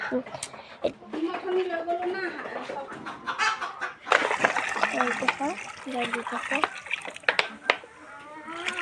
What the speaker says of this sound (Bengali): মুৰ্গীক দানা দিবলৈ আহিছোঁ